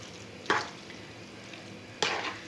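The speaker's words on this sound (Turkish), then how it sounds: "Şöyle güzelce de karıştırıyorum" Food is stirred in a pan over a faint background sizzle, with two distinct scraping strokes spaced about a second and a half apart.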